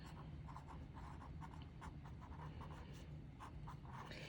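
Pen or pencil strokes scratch across paper in quick, faint, irregular bursts, a quiet close-up writing sound over low background hum.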